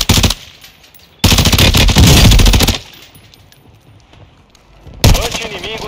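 Bursts of rapid automatic gunfire in Call of Duty: Warzone 2.0, loud and rattling, separated by quieter stretches with faint background sounds.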